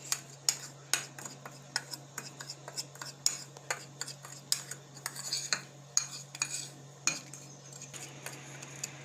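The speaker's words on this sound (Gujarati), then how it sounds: "હવે આ બધું મિક્સ કરી લેવું." Spoon stirring masala spices, chutney and cumin powder together in a bowl for papad, giving repeated light clinks and scrapes in a quick uneven rhythm, close and fairly quiet over a low steady hum.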